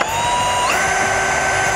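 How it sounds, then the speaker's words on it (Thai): Power drill driving self-tapping screws into wooden slats for a privacy screen, a steady close whine that steps up in pitch partway through and holds, loud and alone. "เตรียมสว่านกับเกลียวปล่อย"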